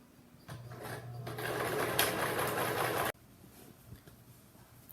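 A sewing machine stitches a fabric bench cushion cover in one steady, close whirring run of about two and a half seconds that stops abruptly, followed by quiet room sound.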